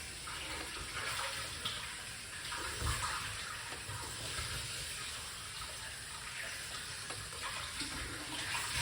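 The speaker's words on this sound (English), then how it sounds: "washing off the lemon." Tap water runs steadily over a lemon being washed in a kitchen sink, a continuous close splashing rush with small shifts as the fruit is turned under the stream.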